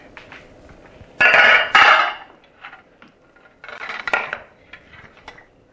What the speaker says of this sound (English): now I'm ready to turn them out onto the cooling rack and let them cool